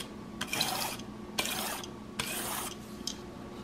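A Palmer Extreme Cut 160 broadhead is drawn across a sharpener in light, even strokes, three or four rasping passes separated by short pauses, close and moderately quiet.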